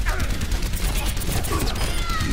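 Rapid game gunfire in Overwatch, a dense, continuous, loud volley of shots layered under a talking voice.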